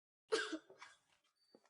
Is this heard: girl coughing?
yes